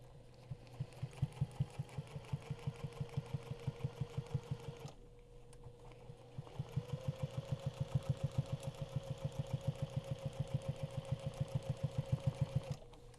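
A sewing machine stitches during quilting ruler work, a rapid regular mechanical chatter with a brief pause midway before it resumes at a steady speed; close and clear, with no voices.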